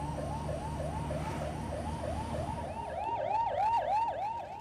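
An ambulance siren wails in repeated rising-falling sweeps amid Indian city traffic, with a steady road rumble underneath; partway through a second siren layer joins and the sound grows louder and closer.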